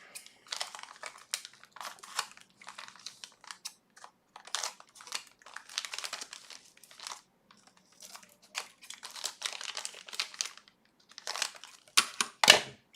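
Plastic bags from BlueSCSI v2 parts for an SE/30 crinkle as items slide out, giving irregular bursts of close, moderately loud rustling and crunching with short pauses between them and no talk.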